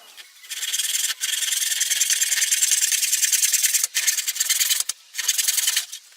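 A small hand tool rasps steadily through pieces for a hive box, making a continuous scraping, sawing stroke close by. It runs without talk and pauses briefly a few times.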